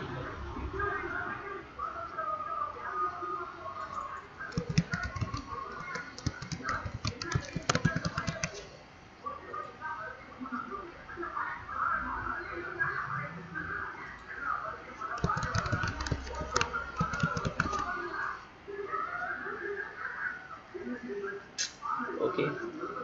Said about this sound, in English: Type your username and password.